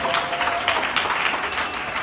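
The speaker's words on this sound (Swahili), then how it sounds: "Jamani, makofi na vigelegele kwa katibu." Applause breaks out for a parish secretary at a church confirmation service, steady clapping from a gathered congregation with bright high trills that could be ululation, continuous and fairly loud for the whole moment.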